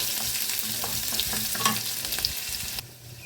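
Ginger and green chili fry in hot oil, sizzling loudly with occasional stirring clicks, then the frying hiss drops away abruptly near the end.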